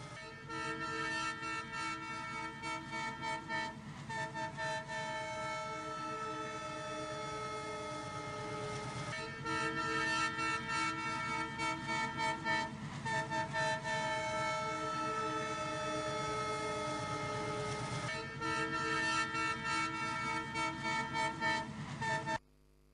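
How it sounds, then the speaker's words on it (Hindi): A fast train crossing a railway bridge over the Jamuriya drain near Barabanki sounds its horn in long, loud, sustained blasts broken by short gaps, with rail rumble running beneath until it cuts off abruptly. "बगल से आ रही तेज रफ्तार ट्रेन का बहुत करीब आने तक इंतजार करते हैं"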